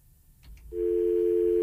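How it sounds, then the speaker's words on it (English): A telephone line opens for an outgoing call: two brief electronic beeps, then a loud, steady dial tone that holds to the end. "Oh, you're dialing out now."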